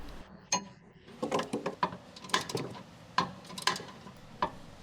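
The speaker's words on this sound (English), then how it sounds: "we'll use the 18mm wrench and the 18mm socket on the extension with our long ratcheting wrench to remove the nut and" Long ratcheting wrench with an 18mm socket on an extension turning the inner nut and bolt of a Chrysler rear upper control arm, giving irregular bursts of metallic clicks and clinks, close and moderately loud with quiet pauses between strokes.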